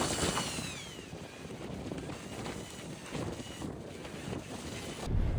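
Strong mountain wind of 15 to 20 mph on Gray Crag buffets the microphone in a continuous loud, rumbling roar with gusty swells and no voices.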